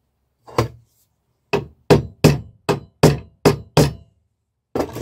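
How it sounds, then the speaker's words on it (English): A hammer strikes a metal punch held in hard metal to start a hole, giving eight sharp, ringing taps: one, then a quick run of six, and a last one after a pause, close and alone. "And then hit it with a hammer."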